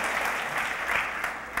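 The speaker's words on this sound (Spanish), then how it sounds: "Dale un aplauso al Señor." A burst of applause from a church congregation, steady clapping filling the room for a moment before it starts to fade.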